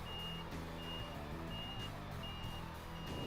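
Reversing alarm on a Doosan articulated dump truck, a steady high beep repeating about twice a second over a constant rumble of the heavy diesel engine, sounding continuous and moderately loud.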